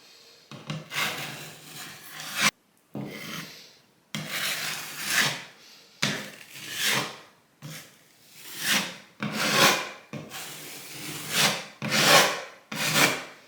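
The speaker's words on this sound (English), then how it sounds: "I'm basically just going to take some spackle and start spreading it on the wall" A putty knife scrapes spackle across a bathroom wall in repeated rhythmic rasping strokes, about a dozen close, loud passes separated by short pauses, with no talking.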